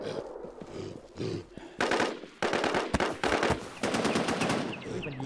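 Rapid automatic gunfire in the NewZ battle royale shooter, bursts of loud, close shots rattling in quick succession across the whole stretch, with brief pauses between volleys.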